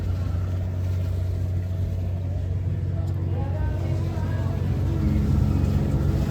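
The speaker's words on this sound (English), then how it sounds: "Sounds like the engines are running." Riverboat engines running on the Mississippi River at St. Paul, a steady low drone holding constant throughout, with faint voices in the background.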